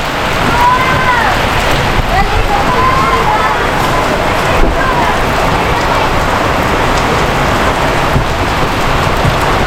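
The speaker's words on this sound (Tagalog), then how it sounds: "Ang bigla pong umulan." Heavy rain pours steadily in a constant hiss of drops, with faint voices occasionally audible beneath the downpour.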